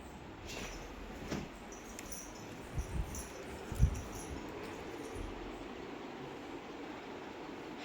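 Train rumble at Basara railway station, a low continuous rolling noise with a few thuds and clanks partway through, heard with no talking.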